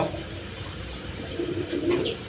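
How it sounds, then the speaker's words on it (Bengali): Pigeons, including pairs with young, coo softly among other background sounds, a few low murmuring calls close by that swell toward the end, with no speech over them. "জোড়া জোড়া বাচ্চা সহ এরকম বিভিন্ন বিডের কবুতর আছে"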